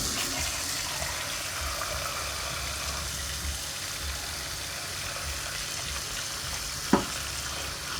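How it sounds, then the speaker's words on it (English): Peeled potatoes sloshed and rinsed in water inside a pot, a steady wet swishing and splashing throughout with one sharp knock near the end. "we're going to put them inside the pot just to rinse them"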